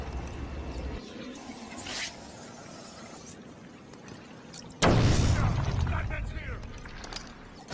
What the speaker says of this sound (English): I heard that explosion.